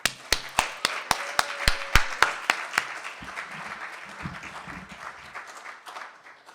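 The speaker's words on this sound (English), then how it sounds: "Let's give a warm welcome applause for Mr. Wes Biles." A gala audience at a jazz awards event in Washington, DC applauds a welcome. A run of sharp, evenly spaced claps close by opens it, then the sound thins into a broad, steady wash of crowd applause that slowly fades.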